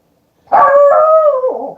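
A dog lets out a single loud, close howl lasting over a second, a sustained wavering tone that slides downward and trails off at the end.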